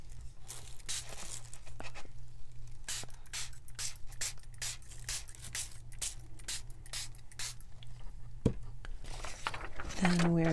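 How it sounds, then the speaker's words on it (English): Repeated short hissing sprays of coffee dye from a spray bottle onto paper, a dozen or so bursts in an uneven rhythm, close by, ending with a brief scrape and rustle. "Spray on the outside a little bit."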